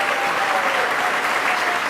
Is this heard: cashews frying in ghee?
no